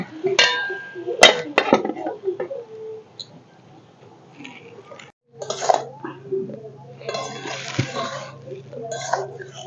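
Metal lid clinking onto a cooking pot of bottle gourd greens, sharp clanks and rattles close by, with quieter scraping and kitchen sounds between and a voice talking over parts of it.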